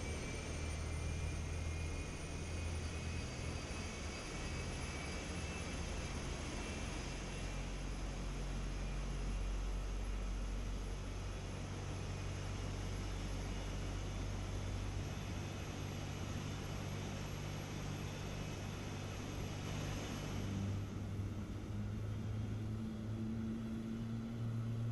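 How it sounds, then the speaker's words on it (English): A Boeing 777F jet engine spools up during a start in a flight simulator game, a steady, dense rumbling roar with a high whine, continuous and even throughout with no speech. "So as engine 2 is starting, you're going to want to wait till the EGT reaches that red"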